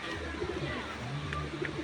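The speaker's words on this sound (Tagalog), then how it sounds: "puros na lang mga kalapati naman na to" Pigeons coo in low, soft repeated calls amid a steady outdoor hum, with other bird chirps and faint voices in the background.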